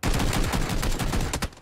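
Rapid bursts of automatic gunfire from a PUBG match, loud and close, crackling in a dense continuous volley for about a second and a half with a final short burst.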